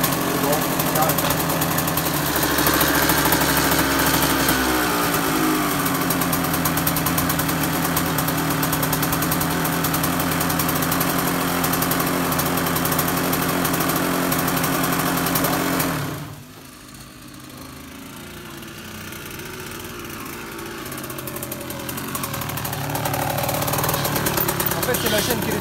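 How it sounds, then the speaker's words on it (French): An idling KTM 125 SX motocross engine rumbles steadily with rattling, knocking vibration from a tight chain slapping the plastic, then drops briefly quieter before revving back up; a voice speaks over it. "c'est la chaîne qui est tendue, que j'entends claquer dans le plastique"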